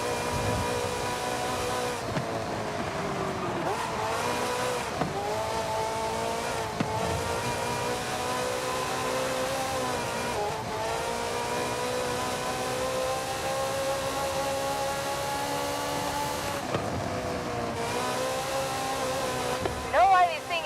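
A Ferrari engine in Forza Horizon 5 drones steadily at high revs, with the tone rising and falling through several gear changes and brief lifts of the throttle, loud and continuous throughout.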